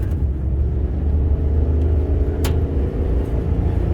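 A pickup truck, previously unable to rev past 2000 RPM, accelerates on the road, giving a steady, loud low engine rumble from inside the cab with no talking.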